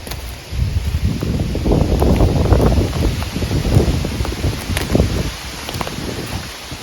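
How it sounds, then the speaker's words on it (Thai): Strong wind gusting across an open solar water-pump site with a 1100 W pump and solar panels, a loud, steady roaring buffet against the microphone lasting throughout, rising and falling slightly with no talk. "ลมแรงนะครับลมแรง"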